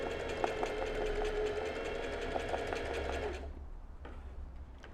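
A sewing machine embroidering in straight stitch runs in a close, rapid rhythmic chatter for several seconds, then stops, leaving a few faint clicks and handling noises.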